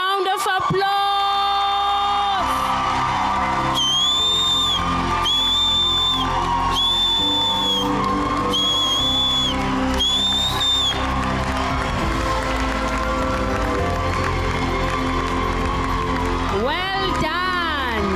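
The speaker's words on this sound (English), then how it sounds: "Let us now give a massive round of applause." A graduation ceremony crowd fills the hall with sustained applause, cheering, whoops and repeated shrill whistles, loud and lively throughout, with voices yelling amid the noise.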